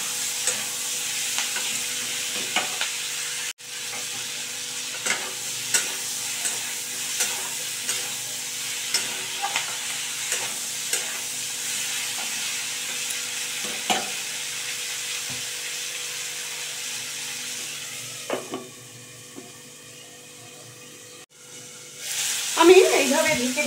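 Green tomatoes cook in a covered pan with garlic. A ladle stirs them in regular scrapes and knocks over a soft, continuous sizzle, and a lid shifts briefly near the end.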